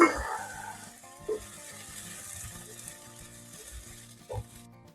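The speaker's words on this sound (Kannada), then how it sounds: "ಸೊ ಈಗ ಇದಕ್ಕೆ 1 ಸ್ಪೂನ್ ಅಷ್ಟು ಶುಂಠಿ ಬೆಳ್ಳುಳ್ಳಿ ಪೇಸ್ಟ್ ಹಾಕೋತಿದ್ದೀನಿ. ನೀಟಾಗಿ ಮಿಕ್ಸ್ ಮಾಡ್ಕೊಳ್ಳೋಣ." Ginger garlic paste sizzles in hot oil in a pan while being stirred in for a spicy mutton kheema, a steady low fry with a few soft spoon scrapes and knocks, close and moderately quiet.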